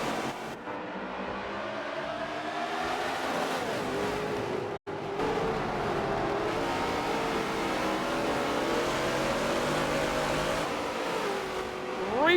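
Race cars accelerate after a green-flag restart at Maple Valley, their engines revving and rising in pitch in a close, continuous roar, with a commentator talking over the noise.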